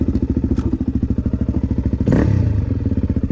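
A Husky 300 dirt bike idles in gear with a loud, rapid, rhythmic pulsing thump, and a brief metallic clatter cuts in partway through.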